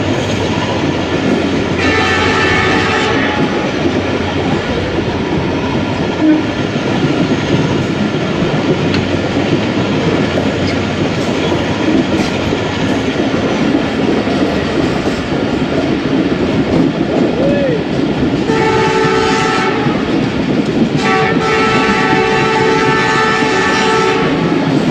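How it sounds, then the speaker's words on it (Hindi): ZCU30 locomotive hauling the Allama Iqbal Express near Malir station, a steady loud roar of the moving train with two long, blaring horn blasts, one near the start and one toward the end. "ज़बरदस्त विजलिंग ZCU30, मज़ा आ रहा है।"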